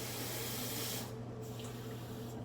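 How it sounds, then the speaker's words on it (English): Tap water runs in a steady hiss over a spoon in a kitchen sink during cooking, with the spray briefly thinning partway through and no talking. "just rinse off my spoonage there"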